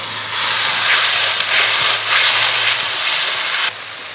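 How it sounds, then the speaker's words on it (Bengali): Chopped tomato with salt, turmeric and a splash of water fries in a pan, giving a loud, steady, close hissing sizzle that drops off sharply near the end. "টমেটো কুচি স্বাদ মতো লবণ পরিমাণ মতো হলুদ গুঁড়ো একটু জল দিয়ে ভালো করে কষিয়ে নেব"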